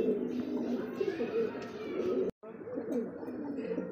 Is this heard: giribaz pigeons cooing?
yes